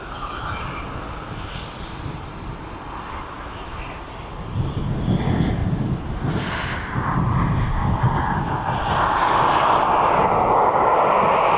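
A Ryanair Boeing 737 jet taxiing toward the runway for departure at an airport, a broad steady engine roar that swells louder over the clip, heard from a distance in open air.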